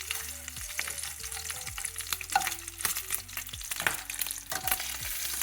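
Bacon sizzles and crackles steadily in a pan, with frequent sharp pops and spatters over a bright hissing bed of frying.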